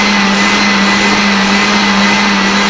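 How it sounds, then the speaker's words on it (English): Electric hand mixer whirring steadily as it beats egg whites for an orange meringue pie, a loud, continuous motor drone with no break and no voices. "an electric hand mixer even for doing egg whites"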